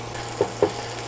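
Lime juice being stirred into food in a hot pan, a soft continuous sizzle with two short utensil scrapes close together, quiet and without talk.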